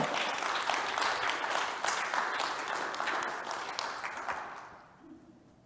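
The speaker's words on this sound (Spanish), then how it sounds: "Si le va a dar un aplauso a Dios, déselo con entusiasmo" A church congregation claps enthusiastically during a worship service, a dense burst of applause that thins out and fades near the end.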